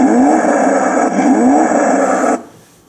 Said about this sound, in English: When you push the button to activate the vehicle, it actually sounds like a vehicle starting.